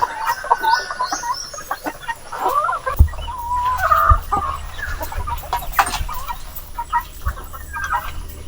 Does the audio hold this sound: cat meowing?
no